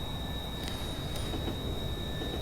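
A Polish diesel train runs in a train simulator game, with a continuous rolling rail rumble, a thin steady whine, and a couple of brief clicks from the wheels, all at a steady moderate level without talk.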